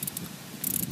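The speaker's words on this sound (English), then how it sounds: "We're going to use a 13mm socket with an extension on a ratchet." A 13mm socket on an extension and ratchet loosening fuel rail bolts on a 1998 Chrysler Town & Country, giving a quick close run of ratchet clicks at the start and again near the end.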